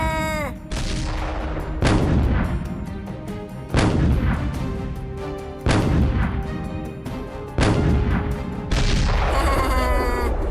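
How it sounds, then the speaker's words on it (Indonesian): Handmade toy missiles fire in a series of heavy booms, five or six sharp blasts about two seconds apart. Each one rings out over a loud, continuous rumble. "Sekarang, ayo tembak rudalnya."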